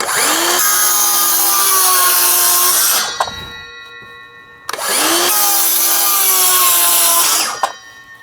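A DeWalt circular saw rips through soft wood in two loud, sustained cuts, each with a steady high whine, separated by a short pause as the blade spins down.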